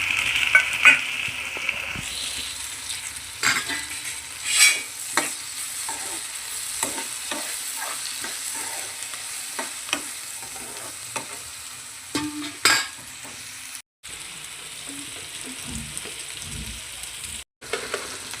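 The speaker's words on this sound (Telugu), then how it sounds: "ఆనియన్స్ మంచి ఫ్రై అయ్యే వరకు కొంచెం సేపు వదిలేద్దాం ఫ్రెండ్స్" Onions frying in a pan as they brown, a steady close sizzle broken by scraping stirs and spatula knocks throughout, with no talking.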